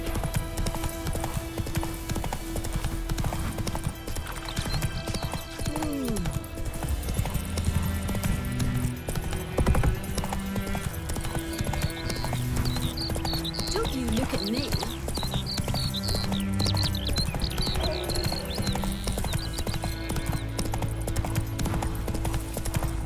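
Hooves clip-clop in a fast, steady gallop as Roach the horse runs in The Witcher 3, loud and close, with music beneath and occasional voices over it.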